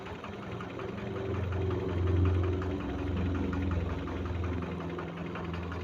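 A three-phase electric motor, set up as a homemade generator, runs steadily nearby with a constant low hum and buzzing vibration, holding at an even level with no voices.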